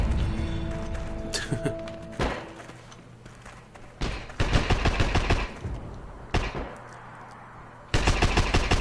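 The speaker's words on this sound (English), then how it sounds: "there's lots of bullets flying around, but I'm not seeing bad guys." Gunfire in the shooter game Heroes & Generals: repeated bursts of rapid automatic fire and single loud shots, close and punchy, separated by short pauses.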